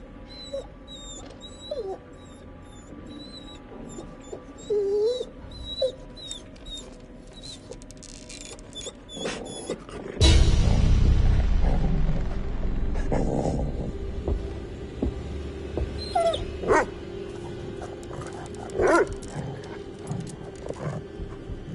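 Faint, high whimpering cries from a dog in the horror game The Devil in Me, scattered through a murky ambience, then a sudden loud rumbling surge with continuing low noise and occasional further whines.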